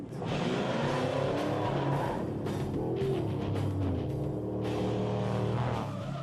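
Off-road racing vehicles drive hard, their engines revving and shifting in overlapping roars, with loud continuous rumble and rising and falling engine tones throughout.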